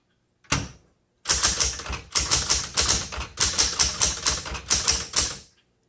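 Rapid, close key strikes on a 1960s or 1970s Smith Corona Galaxie II manual typewriter, a dense run of sharp typebar clacks after one early tap and a brief pause, with no talking.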